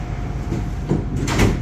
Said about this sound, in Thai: แล้วก็เตรียมปิดประตูนะฮะ